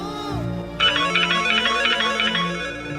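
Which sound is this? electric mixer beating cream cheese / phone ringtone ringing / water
phone ringtone ringing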